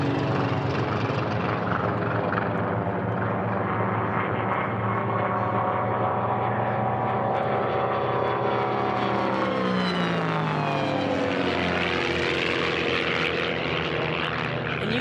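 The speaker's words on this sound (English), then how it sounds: "Hear the difference in each one of those planes." Propeller racing airplanes roaring past the pylon at national championship air races, a loud sustained engine drone whose pitch sweeps downward as they pass and recede, with no voices.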